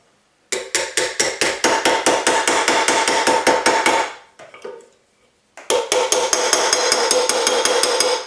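A reticulation silver cuff is hammered on a mandrel in rapid, evenly spaced metallic strikes. The hammering comes close and loud in two runs separated by a short pause.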